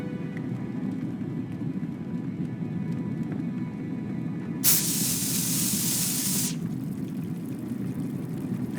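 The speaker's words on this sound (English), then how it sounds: "I dropped the mints into the cola and quickly tightened the cap again." In the Broken Sword 5 video game, cola fizzes after mints are dropped in: a sharp, bright hiss bursts out for about two seconds over a low background rumble, then cuts off, with no talk.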